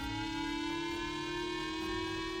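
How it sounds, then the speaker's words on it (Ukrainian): A long, steady air raid siren of the kind used in North Korea wails at a constant pitch, sustained throughout without pause. "Сирени зазвичай довгі, іноді з голосом, який дає інструкції."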